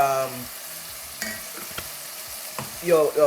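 Tritri fish frying in a pan with spices and peas, a steady close sizzle with a few soft stirring knocks and a louder spatter toward the end, no voices.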